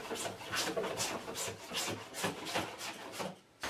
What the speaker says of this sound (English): refining the curve back to the line with a spoke shave